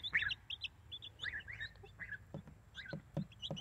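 Baby goslings in a backyard flock peep in high, thin calls, repeated in short bursts and fairly close, with a few soft shuffling bumps underneath.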